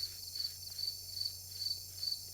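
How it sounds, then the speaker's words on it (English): Crickets chirp steadily in the background in rhythmic pulsing trills, faint and continuous with no talking over them. "I can hear your crickets in the background"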